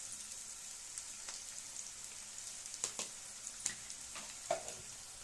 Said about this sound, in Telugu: పచ్చివాసన పోయిందాక అలా వేయించుకోవాలి నూనెలోనే